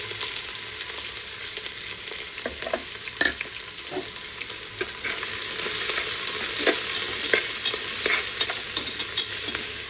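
Sliced onions sauté in a pan for chicken curry, a constant close sizzle and hiss, with a few clinks and scrapes from stirring scattered throughout.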